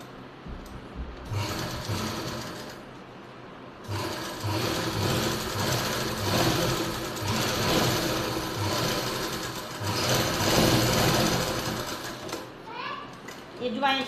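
An electric sewing machine stitching elastic into trousers runs in long rattling bursts with brief pauses between them, close and steady, while a voice talks over it.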